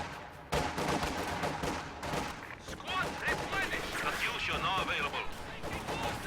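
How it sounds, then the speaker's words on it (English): Incendiary artillery barrage in the Company of Heroes video game at a central cemetery, a dense run of booming blasts and crackling gunfire-like impacts rolling continuously over several seconds, loud and layered. "Incendiary artillery being dropped on everything here in the central cemetery"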